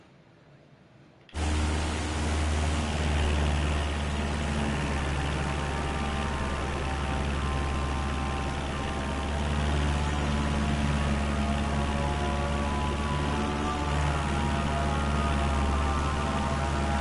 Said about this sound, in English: This plane is so loud.